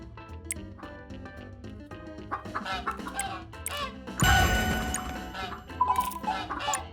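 A chicken weapon clucks in the zombie video game Deadly Days Roadtrip, with busy game effects and a loud crash partway through, all set over steady background game sound.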